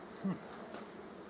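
Honey bees buzz around an open beehive, a soft, continuous hum from many insects at moderate distance, with one closer bee briefly passing.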